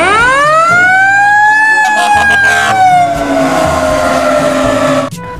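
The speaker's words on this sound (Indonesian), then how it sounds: "ini mobil pemadam kebakaran teman." A loud wailing toy fire truck siren rises in pitch and holds, close and piercing, then cuts off abruptly near the end.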